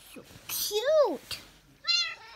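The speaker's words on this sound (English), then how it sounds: "Look at the cat." A cat meows twice nearby, a long rising-falling cry followed by a shorter one, with brief soft voices around them.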